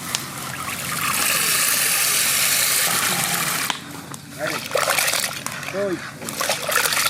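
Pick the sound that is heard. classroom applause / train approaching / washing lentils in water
washing lentils in water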